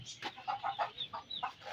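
Chickens at a backyard coop cluck in a run of short, soft calls spaced through the moment, fairly close but low in level, with no talk over them.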